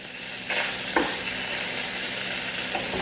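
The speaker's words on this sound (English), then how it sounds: "So I'll get my bacon a little bit more in the center here." Bacon sizzles loudly in a nonstick skillet, the frying hiss jumping up as the strips are pushed toward the center, with a brief scrape of a utensil.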